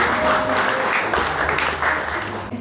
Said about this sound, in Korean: 축하 박수 부탁드리겠습니다.